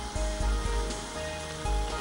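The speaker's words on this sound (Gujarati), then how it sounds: "આ કારેલાને તળાતા અબાઉટ 5 થી 7 મિનિટ જેટલો સમય જશે, કારણ કે આપણે એને સ્લો ફ્લેમ પર તળવાના છે" Bitter gourd pieces fry slowly in oil over a low flame, giving a soft, even sizzle with a few low bubbling thumps, close and steady with no speech.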